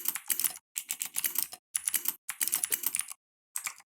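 Bursts of keyboard typing come in uneven runs separated by short pauses. The typist is wearing a fitness band, and the close keystrokes sound alone with no talk.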